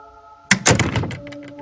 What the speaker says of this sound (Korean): 놀란 저는 더 빠르게 집으로 올라가서 현관문을 닫았습니다